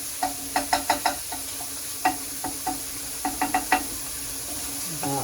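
Pork bolognese meat browns in a pan, and a utensil clicks and taps against it in quick bursts over a faint, continuous sizzle.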